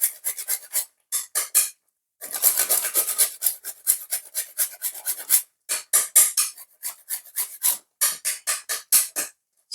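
A whole fresh nutmeg is rubbed against a hand grater in quick, dry rasping strokes, close and clear, coming in short rhythmic bursts with brief pauses between runs and no talking.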